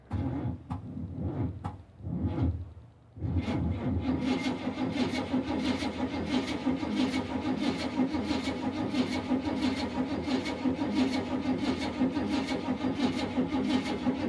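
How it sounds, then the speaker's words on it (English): A 1978 GMC VanDura Class C motorhome on a cold start off jumper cables: a few short, labored cranking bursts, then the engine catches and settles into a loud, steady running rumble close by. "So I guess we'll crank over and see what happens here."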